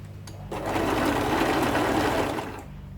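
A sewing machine stitches the folded side of a cloth face mask in one close, loud, even burst of rapid mechanical whirring lasting about two seconds, with quiet before and after and no talking.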